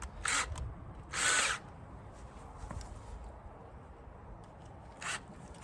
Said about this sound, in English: I'm just gonna screw them in this way.